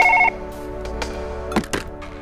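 A video game telephone rings with a short electronic tone burst at the start, followed by soft thumps and clicks against a low steady hum.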